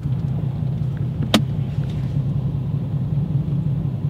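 Steady low road rumble of cars idling and creeping in standstill traffic, a continuous dense hum with one brief sharp click partway through and no voices.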